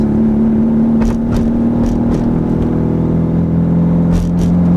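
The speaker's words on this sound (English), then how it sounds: "Car is running like shit." A Toyota 4AGE engine in an AW11 fitted with bike carburetors runs rough and too rich on the street, giving a loud, steady droning hum with a wavering tone and a few faint clicks, no talk.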